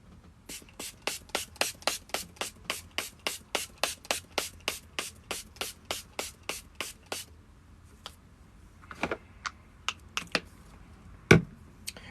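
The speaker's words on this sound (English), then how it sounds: "So it's my own setting spray, so you got to give it a shake." A homemade setting spray bottle is shaken in a quick, even run of about twenty crisp rattles. After a pause come a few separate spritzes and taps, close up and fairly quiet.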